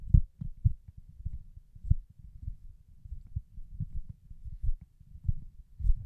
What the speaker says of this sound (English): the rubberized coating really helps out with the handling noise there